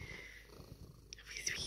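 A pet cat purring softly and steadily up close, a low rhythmic rumble with faint hushed sounds over it, quiet overall.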